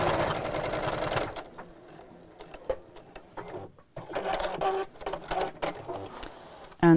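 A sewing machine stitches a seam on a round bamboo-handled bag, first in a loud continuous run, then in short stop-start bursts of stitching with pauses.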